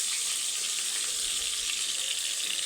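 Ginger sizzling in a hot pot of simmering beef papaitan, a steady bright hiss that holds evenly throughout, close and moderately loud with no voices.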